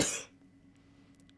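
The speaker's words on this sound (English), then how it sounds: "I'm going to cough." A single short, sharp cough right at the start, close and fairly loud, then quiet room tone.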